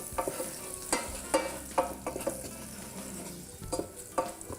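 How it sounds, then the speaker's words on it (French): Enchilada filling with oregano is stirred in a frying pan: a spoon scrapes and clacks against the pan in an irregular rhythm over a steady sizzle, up close and with no talking. "Oh, je vais le mélanger."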